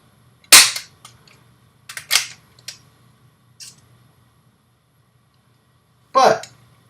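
A Jakks Pacific World of Nintendo Splatoon Splattershot Mini toy water blaster fires in a few sharp squirting bursts, spaced irregularly with quiet gaps between, close by.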